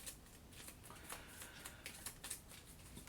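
A few Kingdom Death Monster pattern cards are shuffled by hand, a faint, quick run of soft papery flicks and taps in irregular rhythm, close and with no talking.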